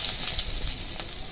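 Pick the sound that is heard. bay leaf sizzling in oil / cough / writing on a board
bay leaf sizzling in oil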